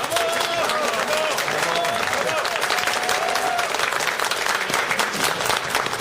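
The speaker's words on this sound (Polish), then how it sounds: "Brawa." Sustained audience applause at a YouTube-themed fan convention panel, Pyrkon 2013, loud and dense throughout, with some voices and cheering mixed into the clapping.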